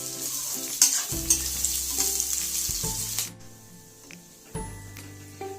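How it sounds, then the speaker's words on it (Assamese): Sliced onions fry in hot oil in a pan for a jackfruit curry, sizzling loudly and steadily with a few clanks and scrapes of stirring, then briefly quieting before the sizzle flares again. "পিয়াজখিনি গোল্ডেন ব্ৰাউন হোৱালৈকে ফ্ৰাই কৰি থাকিব লাগিব"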